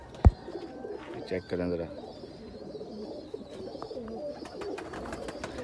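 Teddy and Rampuri baby pigeons coo softly at close range in a continuous low murmur, with a brief sharp knock near the start and someone speaking over them.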